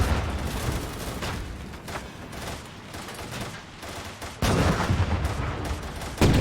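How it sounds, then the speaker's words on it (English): A Flak 88 anti-tank gun fires from a building in the Gates of Hell World War II game, amid dense rolling gunfire and battle noise, with heavy booms cutting in near the end. "AT gun firing from the building. Haha, Flak 88."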